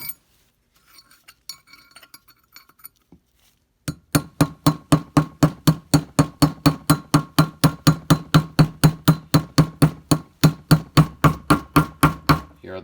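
A hammer taps a wheel bearing race into the front hub of a Porsche 914: about thirty sharp metallic blows in an even, fairly quick rhythm, close and loud, after a few quieter clinks at the start.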